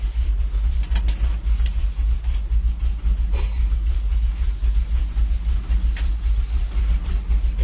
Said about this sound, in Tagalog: Manual lumang truck GMC.